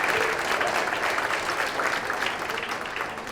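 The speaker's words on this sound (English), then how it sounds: "How about a big round of applause for everybody here?" Audience clapping at the World Series of Birding awards brunch, a full, steady round of applause throughout that eases slightly toward the end.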